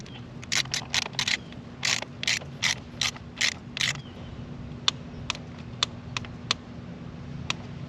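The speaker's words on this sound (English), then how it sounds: "So I just got done torquing down all the bolts." A ratchet wrench torques down valve cover bolts on a Lexus GS460/LS460 V8: a quick run of loud, crisp ratcheting clicks, then a slower string of single clicks spaced apart, close by and with no talking.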